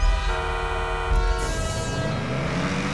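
A car horn in GTA 5 blares in a long sustained toot, then cuts off into an engine roar and road noise as the vehicle drives on, with no voices.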